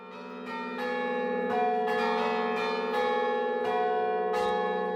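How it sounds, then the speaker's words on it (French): Four church bells in the village of Saint-Clément-les-Places, swung by hand, ringing in a loud overlapping peal with repeated strikes and long sustained tones, no voices. "Ces 4 cloches sont aujourd'hui encore actionnées manuellement par l'horloger du village."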